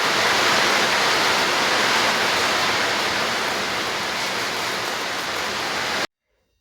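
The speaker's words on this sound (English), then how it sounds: "the rain is coming and it's going to fall again" Heavy rain pours steadily onto a house roof in a village home with a leaking roof, a dense, even hiss that stays loud and constant for about six seconds before cutting off abruptly.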